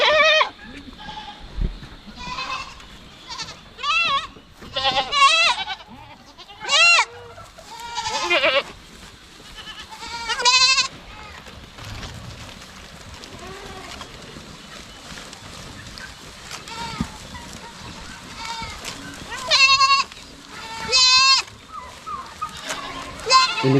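Goats on a Filipino farm bleat repeatedly and loudly, several animals calling in overlapping bursts close by, with occasional other livestock and fowl sounds in the background.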